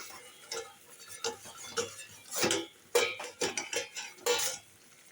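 Cookware being handled in a home kitchen while vegetables boil for a mixed-vegetable chorchori: scattered metallic clinks and taps, including a few sharper clanks as a lid goes onto a pot, close and fairly quiet, with no voices.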